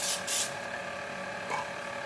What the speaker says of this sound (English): I just kind of like spray that all around